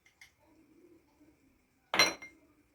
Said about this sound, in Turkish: Ve bunları güzelce karıştırıyorum.